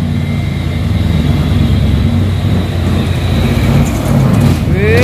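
A vehicle engine roars steadily under strain while climbing the steep Bukit Kodok hill, a loud, continuous drone with a rising whine near the end.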